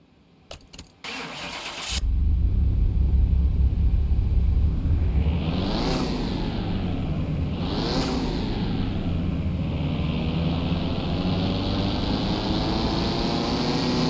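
A Honda kei truck engine in Car Mechanic Simulator 2021 starts with a few clicks and a crank, then runs on a dyno, climbing through two loud rev sweeps before settling into a steady, droning run.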